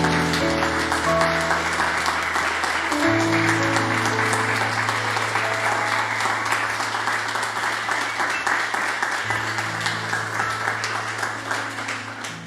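A church congregation applauds to the Lord at the close of a sermon, a steady, dense clapping that fills the room over sustained keyboard or organ chords and slowly tapers.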